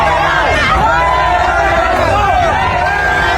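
Mexican football fans in a large stadium crowd chanting "no era penal" in rhythmic unison, a dense, loud, continuous roar of many voices filling the whole stretch.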